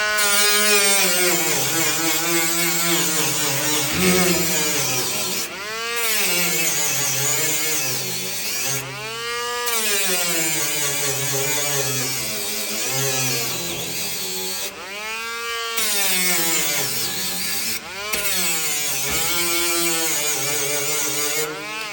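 A small, cheap battery-powered angle grinder whines steadily and loudly, its pitch dipping and rising several times as it bites into metal, with brief gaps between passes.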